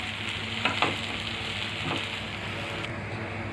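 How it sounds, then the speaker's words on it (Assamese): Crushed peanuts and okra sizzle steadily in a hot pan for Maharashtrian-style bhindi bhaji. A few quick scraping stirs sound up close, and then the frying hiss quiets near the end. "এতিয়া আমি ইয়াত পিচি থোৱা বাদামখিনি এড কৰিম আৰু ভেন্দিখিনিৰ লগত ভালদৰে মিক্স কৰিম।"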